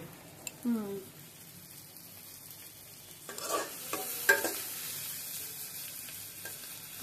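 Prawns frying in a pan while being stirred, a faint sizzle with scraping strokes and a brief voice near the start, the stirring growing a little louder in the second half.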